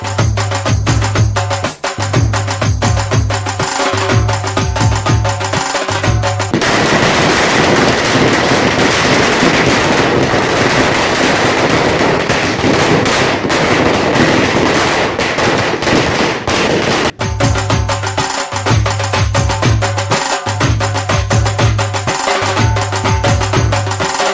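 A long string of firecrackers bursts in a Maratha community celebration in Bhusawal, a dense, loud, continuous crackle for about ten seconds, framed before and after by steady background music.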